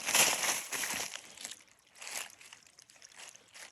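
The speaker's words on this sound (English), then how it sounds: "The sound of water." Water trickles and splashes softly nearby on a mossy winter hiking trail, in uneven bursts, a gentle babbling that rises and fades over a few seconds.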